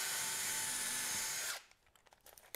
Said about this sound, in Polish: Lecimy z wierceniem, zmieniamy na wkręcanie, biorę wkręt